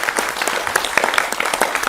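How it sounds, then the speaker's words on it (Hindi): A studio audience claps to welcome a guest onto a televised debate show, a dense, close burst of applause with no voices over it. "जोरदार तालियों के साथ स्वागत करें।"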